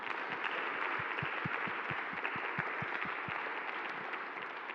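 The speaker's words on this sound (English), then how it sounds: "let's just give a round of applause for Jeremy" Dense applause from a crowd for a guest speaker, filling the whole stretch, steady and sustained, with a few sharper low thumps scattered through it.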